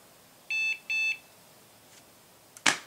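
Two short, high electronic beeps in quick succession from a Hewlett Packard computer motherboard with a failed CMOS checksum, followed by faint clicks and a brief sharp noise; otherwise quiet.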